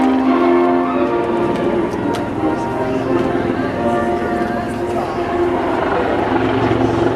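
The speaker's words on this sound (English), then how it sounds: "It really is a very capable helicopter" A Lynx HMA 8 military helicopter flying at the 2013 Waddington air show, a loud steady rotor and turbine roar throughout with a commentator talking over it on the public address.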